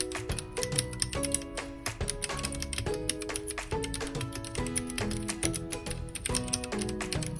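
Typing on a Rexus Daxa M71 Pro mechanical keyboard with brown switches produces a fast, steady run of close, crisp key clicks and clacks over soft background music.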